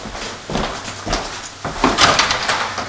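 A door opens and closes in a room, with several close knocks and bumps of the door and its latch spread over a few seconds and no talk.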